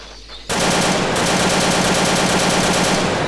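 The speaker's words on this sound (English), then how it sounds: "Yes, we can see some machine gun still needs works." A machine gun in the Doom mod VietDoom opens up after a short pause and runs as one dense, continuous, very loud stream of rapid shots to the end.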